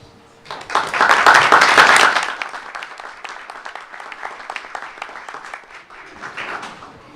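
Applause for re-elected members at a Board of Education meeting: loud, dense clapping swells in after a brief pause, peaks early, then settles into steadier, thinner clapping that lasts the whole stretch.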